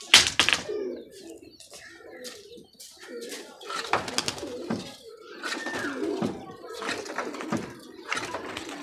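Pigeons coo in soft, low calls beneath voices talking nearby, with scattered rustles and knocks.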